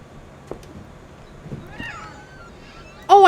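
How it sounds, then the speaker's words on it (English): A cat meows clearly at the end, preceded by faint game ambience with soft thuds and a quieter mewing sound, in the video game What Remains of Edith Finch. "Oh, I did hear a cat."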